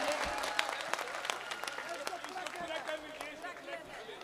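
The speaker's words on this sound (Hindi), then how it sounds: "हाँ, जोरदार तालियों से इस्तकबाल कीजिए।" Audience applause welcoming a poet at a mushaira, Hindi-Urdu shayari gathering, scattered claps rising into steady clapping with chatter and voices mixed in throughout.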